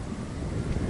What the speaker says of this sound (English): I know there's probably wind coming through